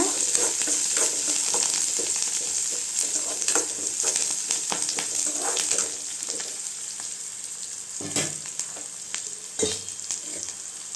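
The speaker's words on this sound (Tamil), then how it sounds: "காஞ்ச மிளகா எல்லாம் சேர்த்து நல்லா வதங்கிட்டுங்க" Dried red chillies and onions sautéing in a pan for a chayote and chana dal poriyal, a steady close sizzle broken by repeated scraping stirs, with no talk.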